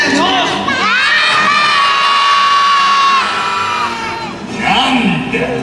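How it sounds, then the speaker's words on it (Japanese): A crowd of children in the audience at a Doubutsu Sentai Zyuohger live stage show shouts long, loud, sustained cheers together, with a fresh burst of yelling near the end. "大きな声で頑張れって叫んでくれれば、その声はきっと俺たちの力になる"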